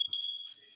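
A smoke detector emits a single high electronic beep that holds for about half a second and then fades, sounding faint and slightly distant, as if from inside a house with a tile floor.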